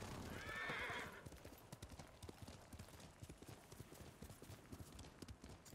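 A horse in the video game Ghost of Tsushima gives a whinny, then gallops with steady rhythmic hoofbeats, softly and evenly under faint ambience.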